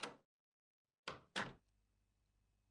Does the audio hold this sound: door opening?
yes